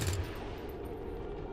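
Heavy gunfire in XCOM 2 with ballistic weapons, a dense continuous barrage that stays loud and sustained for the whole moment with no talking over it.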